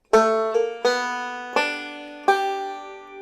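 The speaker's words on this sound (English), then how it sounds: "just the forward roll part of it is going to sound like this" Bright plucked bluegrass banjo notes in a forward roll pattern, a few distinct attacks with ringing decay, one note bending upward in a slide, played alone.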